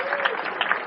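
Military audience at a Fort Leavenworth comedy show clapping in a steady, dense burst of applause that fills the whole short moment.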